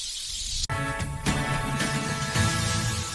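Steak searing on its second side in a hot pan gives a loud, steady sizzle that breaks off briefly, then returns and carries on without pause.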